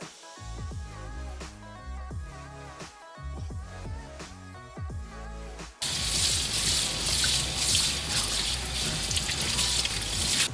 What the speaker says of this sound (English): you do want to use some like warm water and soap to wash it